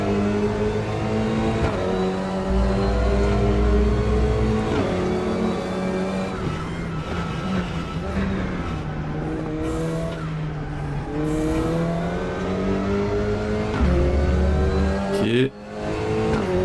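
Race cars in the RaceRoom Racing Experience video game roar off the start, engines revving and rising through gears in a loud continuous blend, with tire squeal and someone speaking over it.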